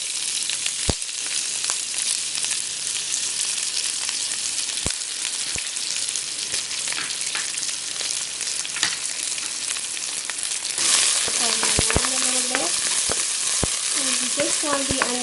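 Onions, green chilies and curry leaves hit hot oil together, giving a steady close sizzle with frying crackle throughout, a brighter burst of spitting partway, and a few sharp clinks of stirring.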